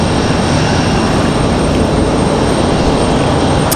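An airplane arriving at Raleigh-Durham International Airport, a loud, steady engine roar that fills the whole clip with no talk.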